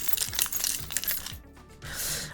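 A bunch of keys being dropped and jangling, bright metallic clinks in several quick bursts with short pauses between, close and fairly loud.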